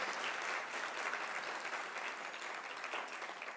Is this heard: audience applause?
yes